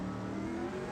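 A sustained car engine held at steady throttle in a license-test drive, droning loud and close with a low harmonic hum throughout, no talk over it.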